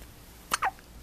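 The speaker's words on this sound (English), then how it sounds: "Somebody's got the hiccups." A baby hiccups twice in quick succession, each a short, soft, close hiccup in an otherwise quiet room.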